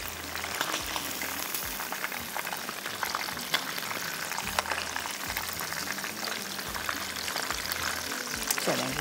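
Chicken wings deep-frying until crispy in hot oil, a dense, steady sizzle and crackle that stays loud and close throughout, with no talking heard.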